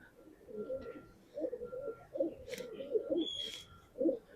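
Pigeons in a loft coo in a run of repeated low throaty calls, close and fairly clear, with a few higher chirps and brief knocks in between.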